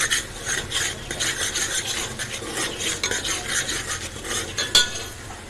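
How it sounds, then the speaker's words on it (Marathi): A spoon scrapes and stirs ginger-garlic paste and masala sautéing in a pan, a close, rhythmic rasping of metal on metal over a light sizzle, repeating in quick strokes. "चांगली मिक्स करून घेऊया मिनिटभर परतून घेऊया"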